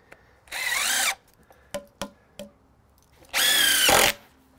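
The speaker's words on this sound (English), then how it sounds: "Okay, so I can throw a screw in there" A power drill drives a screw into a wooden deck frame in two loud, close whirring bursts with clicks and knocks between them.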